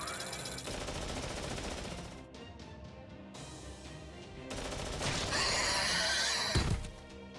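Guns crackle in Fate/Grand Order amid a busy game soundtrack, sharp shots rattling in bursts alongside horse whinnies and a swelling crash near the end.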